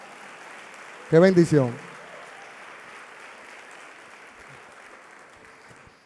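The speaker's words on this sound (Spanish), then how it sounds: "Dale ese aplauso fuerte" Faint, distant applause from a church congregation hisses steadily in the background while a voice speaks a brief phrase near the start, then the soft clapping continues alone.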